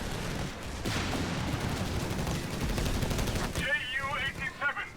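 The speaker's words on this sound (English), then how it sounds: "Ju-87 strafing run." A Ju-87 dive bomber's strafing run in the tabletop-style strategy game Operation Clash rattles out as dense, continuous gunfire, then fades into softer tonal game effects near the end.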